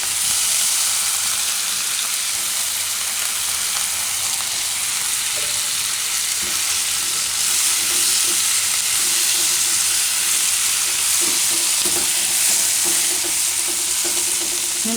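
Potatoes frying in a pan of hot oil for a Gujarati soya-chunk and potato curry, a steady loud sizzle running throughout, broken now and then by scraping stirs.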